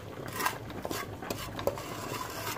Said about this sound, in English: Just have to keep giving this a stir, stirring the sugar to get brown.